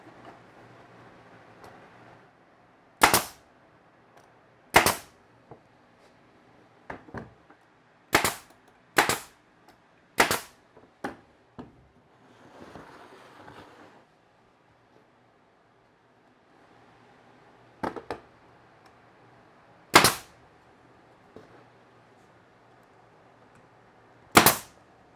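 Nail gun firing nails at an angle into the frame of a DIY frame-and-panel cabinet door, a series of sharp, loud pneumatic snaps spaced irregularly, some in quick pairs, with quiet shop ambience between.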